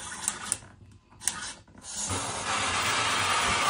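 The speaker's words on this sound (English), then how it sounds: "So the water is spraying up to this point." A few soft clicks and hisses, then a steady, close spray of water from a hands-free toilet bidet nozzle that swells into a continuous rushing hiss.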